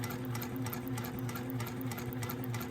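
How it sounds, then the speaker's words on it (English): A sewing machine stitches the facing of a dress at a short stitch length, running steadily with a fast rhythmic needle patter and a motor hum, close up and with no talking. "I went ahead and stitched in my facing"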